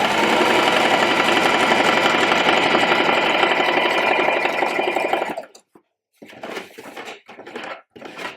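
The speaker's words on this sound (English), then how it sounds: "I'm going to go back to where I started and sew a second line right below" A sewing machine stitches a second shirring line across a dress for about five seconds in a steady, fast mechanical whir, then stops and leaves scattered handling noises and short gaps.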